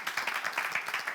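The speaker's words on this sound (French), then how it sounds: "On l'applaudit." Brief, faint applause for a prize winner at a New Year's Eve game event, a quick, rhythmic patter of a small group's clapping heard from a distance.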